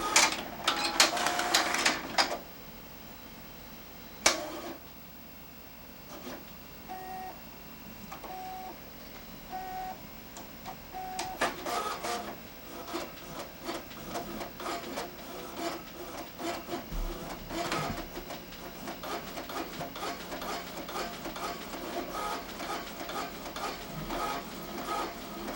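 An HP DeskJet 670c inkjet printer's mechanism, opened up for servicing, whirs and rattles in irregular bursts with a few sharp clunks and scraping sounds, close but fairly quiet, with no talking.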